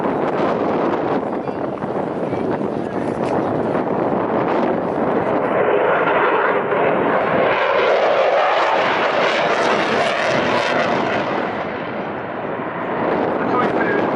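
A Typhoon jet roars past at a summer airshow at Duxford, with a loud, sustained engine rush that swells and fades slightly, plus wind buffeting on the microphone.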